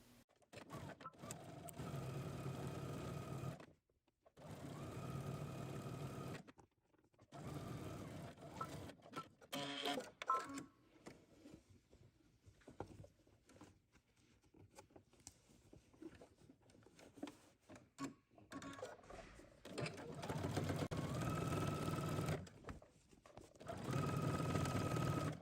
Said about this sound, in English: You're going to sew in one straight line, starting at the bottom, back stitching of course